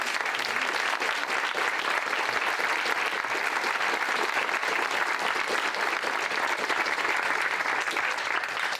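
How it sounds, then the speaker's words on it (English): Sustained audience applause fills a debate championship hall, a dense, steady wash of many hands clapping at even loudness with no breaks for the full duration. "Can we have a round of applause?"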